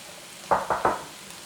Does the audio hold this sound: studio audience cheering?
no